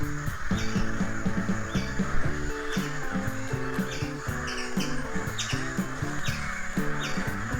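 Crows caw at dusk in repeated harsh calls from several birds, some near and some farther off, with quieter chirps and faint traffic behind them.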